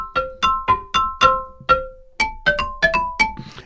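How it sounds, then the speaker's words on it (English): A Korg Kross 2 synthesizer plays a bright, wide stereo marimba-like patch, about eleven mallet-like notes in a moderately paced melodic line, each with a quick attack and short ringing decay, heard alone with no talking. "It's a kind of a marimba sound, but it is very stereo-y."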